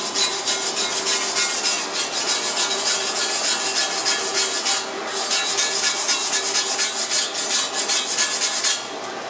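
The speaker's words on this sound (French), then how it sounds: "On met un petit coup de brosse métallique." Wire brush scrubbing clean a MAG weld bead on thick butt-welded steel plate, a steady, loud, continuous rasping scrape close by, with one brief pause midway and no talk.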